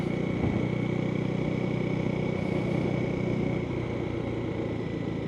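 Husqvarna Svartpilen 401 motorcycle engine running steadily in fourth gear through a downshift, a loud continuous mid-pitched drone with rumbling low end and a whining tone, no knocking, sustained throughout with a slight drop near the end.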